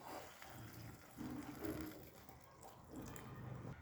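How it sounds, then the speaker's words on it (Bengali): Water is poured from close by into a pan of curry made with raw biuli dal bori, a faint, steady, trickling splash that swells briefly. "সেই আন্দাজ বুঝে জলটা দিয়ে দেব।"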